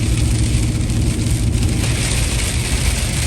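Heavy rain storm with 60 to 90 km/h winds pounds down in a dense, unbroken roar, loud and close, with a low rumble underneath.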